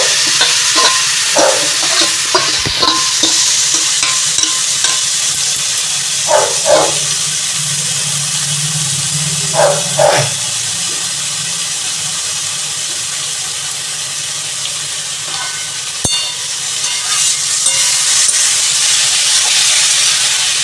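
Diced potatoes fry and sizzle in a pan as grated papaya is added, a continuous loud hiss broken by repeated scraping stirs and clinks of the spatula.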